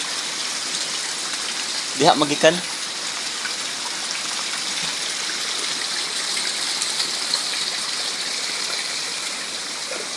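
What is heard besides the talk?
heavy rain and flood water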